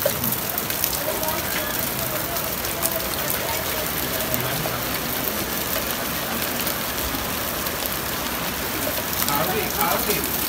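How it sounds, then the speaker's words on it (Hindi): Hail falls heavily at a house, heard as a steady, dense patter and crackle of stones on surfaces that runs without a break, with a faint engine hum beneath it. "ओलों की बहुत तेज बारिश हो रही है"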